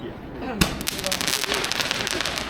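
Handheld Chinese New Year fireworks shoot with a sharp initial bang followed by a steady crackling, hissing stream of bursts, loud and close, with people talking faintly in the background.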